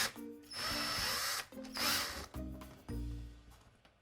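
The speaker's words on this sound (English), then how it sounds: "Now I can drill a hole and mill in the same time." A power drill fitted with a 3mm bit bores into wood, with several short bursts of whirring separated by brief pauses, close and fairly quiet.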